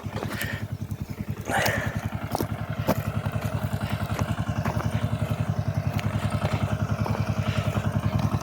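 A walk-behind tractor with a disc attachment ploughing a field chugs steadily in a fast regular engine rhythm close by, loud and continuous with light clatter.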